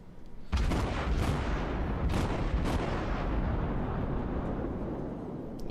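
The Cleveland tier 6 cruiser fires naval guns in World of Warships on the Two Brothers map, with a heavy booming salvo and a few further shots over a rumbling, sustained roar.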